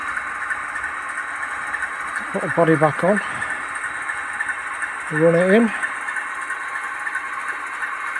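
A Roco 52467 Ludmilla model diesel locomotive with a Plux 16 sound decoder idles in a steady, even engine drone, while someone speaks two short phrases over it.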